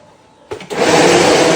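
A decades-old kitchen blender switches on abruptly and runs loud and steady with a dense whirring roar, mixing an ice candy base, with no one talking over it.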